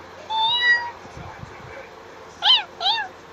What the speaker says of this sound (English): What is the sounds of cat?